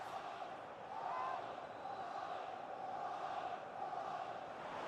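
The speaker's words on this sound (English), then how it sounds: "Well, just listen to the crowd" A stadium crowd roars during an eFootball match, a steady, distant-sounding swell of massed voices that holds for the whole stretch, rather faint and continuous.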